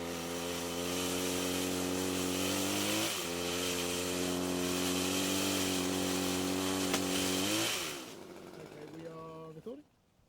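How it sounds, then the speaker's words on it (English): A Cobra MT270K pole chainsaw on an extended pole cuts through thick tree branches, its engine whining steadily at high revs, dipping briefly mid-cut, then winding down and idling to a stop. "it makes light work of cutting quite thick branches, so ideal for trimming in trees"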